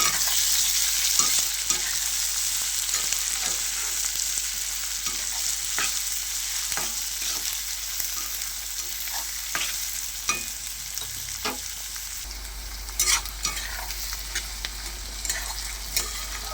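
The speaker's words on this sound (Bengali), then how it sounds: "ক্যাপসিকাম দিয়ে দেবো কাঁচা টমেটা সব কিছু একসঙ্গে একটু ভাজা ভাজা মতো করে দেবো" Pointed gourd, capsicum, raw tomato and other vegetables stir-fried together in a pan for an egg bhujia, giving a steady close sizzle with repeated scraping and stirring clicks throughout, no talking.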